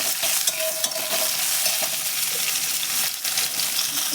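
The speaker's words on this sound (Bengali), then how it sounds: "তেলেই উচ্ছেগুলো ভেজে নেব" Bitter gourd pieces fry in oil with a loud, constant sizzling hiss. Small metallic scrapes and taps from stirring break through now and then, and there is no talking.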